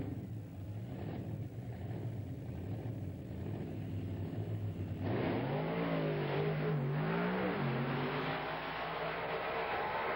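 Several 4x4 trucks rev loudly in an Ozark Mountain 4x4 Club drag race, their engine drone sustained at first, then sweeping up and down in pitch as one accelerates and shifts, near and continuous.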